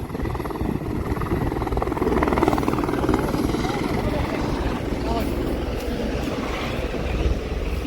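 A helicopter's heavy rotor chop thumps steadily and loudly nearby at a mountain helipad at Panchtarni on the Amarnath cave route, a continuous rhythmic roar with faint voices underneath.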